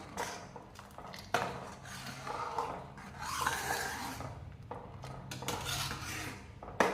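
Basundi milk is stirred in a pot, quiet scraping and rubbing of a spoon against the metal, with a couple of sharper knocks and clinks over several seconds.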